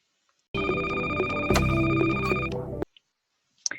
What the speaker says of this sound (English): we use ring to describe the sound of notifications on the phone